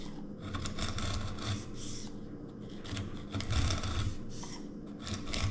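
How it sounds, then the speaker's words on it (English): Chisel paring wood for a workbench joint, close rasping and scraping strokes in an uneven rhythm of repeated pushes, moderately quiet with no talking. "I pare it down with the chisel, and this sound is music to my ears"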